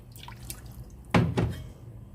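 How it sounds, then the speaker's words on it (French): A small amount of water poured onto a beef mixture for an oven-baked dish, heard as a short splashing pour of about half a second, close and moderately loud, with faint kitchen background before it. "on va rajouter de l'eau, pas beaucoup"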